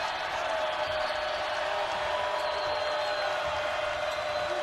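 A basketball arena crowd at an Oregon State vs Cal game keeps up a steady, broad murmur of noise with faint scattered cheering throughout.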